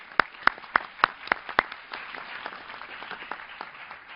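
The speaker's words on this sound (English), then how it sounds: "let me invite you to applaud the panel for their interventions" An audience at a conference panel session on terrorism and the internet applauds: six sharp, evenly spaced claps open the sound, then it spreads into a softer, steady patter of many hands.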